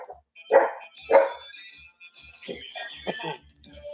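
An Australian Shepherd dog barks twice, loud and close, near the start, followed by scattered softer yips and sounds in a room during a hookah session.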